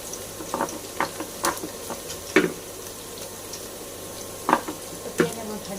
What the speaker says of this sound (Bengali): পেঁয়াজ আমার ভাজা ভাজা হয়ে গেছে